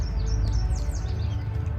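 Birds chirp outdoors in short high, repeated calls, fairly faint and a little distant, over a steady low rumble of background noise.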